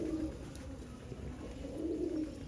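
Pigeons fed roti coo in low, rolling murmurs close by while they eat, a soft steady chorus with a few swells and no voices.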